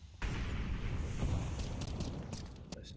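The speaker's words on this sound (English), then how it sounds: "Flashbang down towards the top of ramp." A flashbang grenade detonates near the top of a ramp in a competitive video game match, a sharp loud burst followed by a ringing, noisy decay with a few short clicks near the end.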